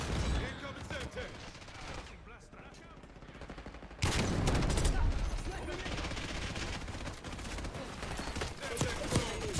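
An LMG fired from the hip in a video game, sustained rapid machine-gun bursts that come dense and loud with in-game voice chatter mixed in.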